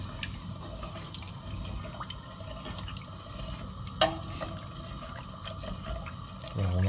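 Water heats in a pot for rice soup and is stirred, giving a steady close wash of soft bubbling and liquid movement with small clinks and a brief splash midway.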